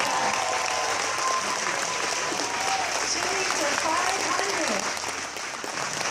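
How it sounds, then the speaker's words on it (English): A crowd at a charity chili meal gives applause for the cooking staff, sustained, full clapping from many people close by, with a few voices calling out over it. "let's give some applause"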